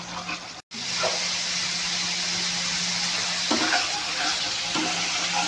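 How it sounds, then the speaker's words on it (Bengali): Spice masala frying in oil for a spicy tengra fish curry, giving a continuous close hiss and sizzle with occasional scrapes as it is stirred and one brief dropout near the start, heard without voices. "দিয়ে মশলাটা আর একটু তেল ছাড়া অবধি কষিয়ে নেব"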